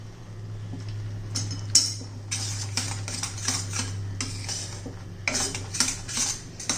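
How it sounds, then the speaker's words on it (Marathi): A spoon scrapes and clinks against a pan while chocolate modak mixture with cashews is stirred until thick, repeated close metallic strokes over a low steady hum. "असं घट्ट होईपर्यंत आपल्याला एकसारखं असं हलवत राहायचं"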